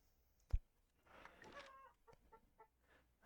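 Chickens in the video game Chinese Frontiers cluck in short, quiet bursts after a single soft thump, heard faintly with no talk.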